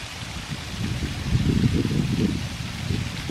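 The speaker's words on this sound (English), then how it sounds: "What a lovely waterfall." Waterfall in a forest at the bottom of a deep V-shaped valley, a steady rushing splash with low rumbling surges, moderate and continuous, with no voices.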